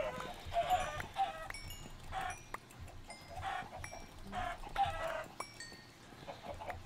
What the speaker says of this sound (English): Yeah, I had a lot of chickens up there.